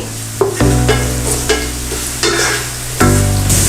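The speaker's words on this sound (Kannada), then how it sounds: "ಇಲ್ಲಿ ಈರುಳ್ಳಿ ಫ್ರೈ ಆಗ್ತದೆ" Chopped onion, curry leaves and dried chillies fry in hot oil with a steady loud sizzle, while a utensil stirs them in several distinct scraping strokes, and nobody speaks.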